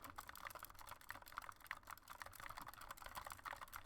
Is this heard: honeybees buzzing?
no